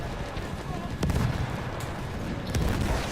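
Repeated grenade blasts in a Battlefield 1 battle: two sharp, loud booms about a second and a half apart over a constant rumble of distant war noise.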